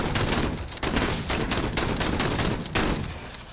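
Rapid gunfire bursts in the video game Menace sound as dense, continuous volleys of overlapping shots, loud and close, with brief dips between bursts.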